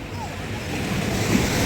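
Sea waves wash onto the beach at Aazhimala in Trivandrum, Kerala, as a continuous rushing surf blended with wind noise.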